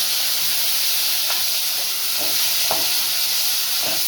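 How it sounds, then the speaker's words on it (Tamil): Mustard seeds, cumin, onion, curry leaves and green chilies sizzle steadily in hot oil for tomato kurma, a continuous close hiss with a few soft crackles and stirring sounds, no voices. "கடுகு சீரகமும் வெங்காயம் கொஞ்சம் கருவேப்பிலை பச்சை மிளகாய்"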